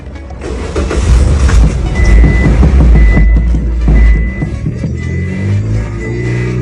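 A used car engine with a loose gas pedal, one that stalls once the accelerator is released, starts up close by with a loud, uneven low rumble that surges and wavers throughout.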